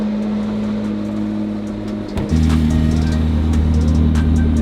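A McLaren P1's engine runs loud and close, a deep steady idle that jumps to a heavier, fuller roar after a brief dip midway, with no talking.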